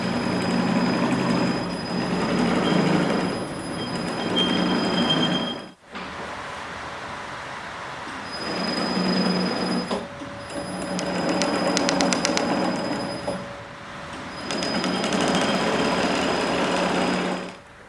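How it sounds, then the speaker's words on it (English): An industrial square sewing machine stitches mattress panels together in a mattress factory, running in a loud, continuous mechanical whir in three long bursts separated by brief pauses, with no talk. "I'm just sewing these two components together with our square sewing machine"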